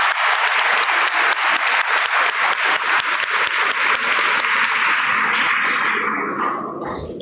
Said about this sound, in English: Sri Bratya Basu, he deserves a big round of applause from our side